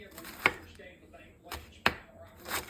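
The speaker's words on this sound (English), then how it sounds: "And like I said, if it's big, I just chop it up" A knife chops through rolled collard greens on a cutting board, giving a few sharp, separate cuts spaced about a second apart, close and fairly quiet, with no talking.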